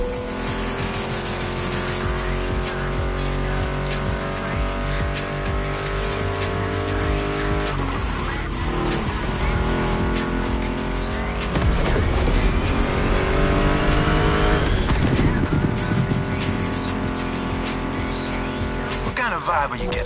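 Roaring car engines with squealing tires, loud and continuous, with a voice briefly over the noise, in the racing game The Crew Motorfest, including a Mustang GT muscle car.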